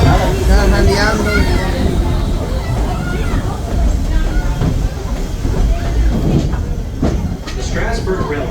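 A Strasburg Railroad train in Pennsylvania runs along the tracks with a continuous loud rumble, hiss and metallic rattling, while people talk over it.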